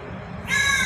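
Crow calling in Ayodhya, one harsh drawn-out caw that starts abruptly halfway through and rings loud and near.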